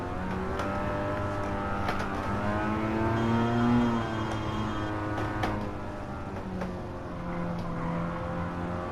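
Mazda RX-7 FC rotary engine in Gran Turismo 7, driven with a sim wheel on a track lap, holding a steady rising and falling drone as it accelerates out of a corner, loud and continuous with no talk.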